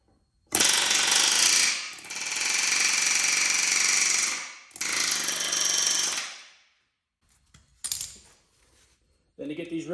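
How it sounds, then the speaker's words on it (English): An air hammer fitted with a Snap-on chisel bit drives rivets out of a vehicle frame: three loud, harsh rattling bursts, then a few quieter clanks and taps. "little demonstration of this air hammer here"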